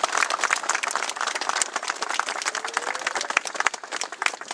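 An audience at the unveiling of a statue of Pope John Paul II applauds Monsignor Mascherin with steady, dense clapping that holds at an even level throughout.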